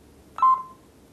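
Single short electronic key beep from an emporia mobile phone as the OK button is pressed, clear and close against a quiet background.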